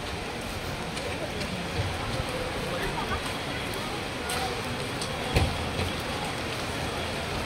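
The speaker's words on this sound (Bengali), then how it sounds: "বৃষ্টি এই যে কখন থামবে" Steady hiss of rain falling continuously, with a few soft knocks and bumps standing out briefly against the constant wash.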